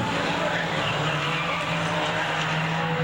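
Race cars roar around the Veterans Raceway Park track in a steady, droning engine howl with a sustained tonal note, a commentator's voice running over the continuous noise.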